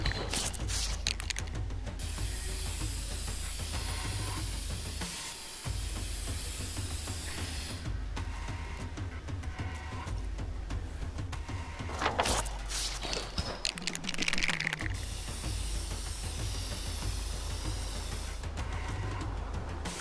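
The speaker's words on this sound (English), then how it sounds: "Spray paint." Spray paint in the video game inFAMOUS Second Son hisses loudly in long continuous bursts, broken by short gaps and mechanical rattles, alone without talk.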